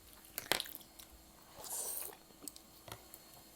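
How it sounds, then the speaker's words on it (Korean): Close, wet chewing and biting of wide potato noodles from malatang, with soft smacks and squishy bursts scattered across a quiet room. "원래 ASMR은 쩝쩝거리는 거야."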